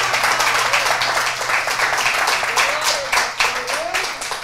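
A church congregation applauding after a sermon, steady clapping across the room with voices and shouts mixed through it.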